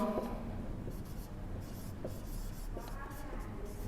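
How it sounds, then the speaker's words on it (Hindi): A pen or chalk writes out a physics question, soft scratchy strokes in short irregular bursts over a faint steady background hum, close and quiet with no speech. "8 नंबर क्वेश्चंस लिख रहा हूं"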